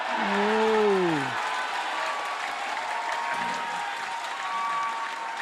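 An audience at the Under-23 World Squash Championships final claps steadily in a hall, a broad wash of applause held for several seconds, with a crowd voice rising briefly at the start.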